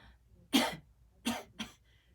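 Three short, dry coughs made by a voice imitating a cough: one, a pause, then two quick ones close together, near and fairly loud.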